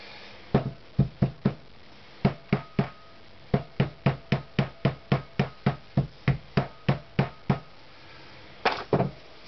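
A rubber hammer strikes the front fork of a Honda CX500 motorcycle about twenty times in quick, even taps, with brief pauses between groups of blows.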